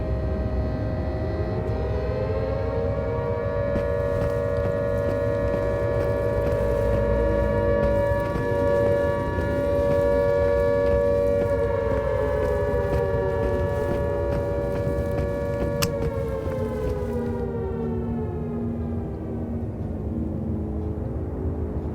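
A siren in the VR video game Into the Radius wails with long rising and falling tones over a constant low hum, loud and steady throughout, with no talking.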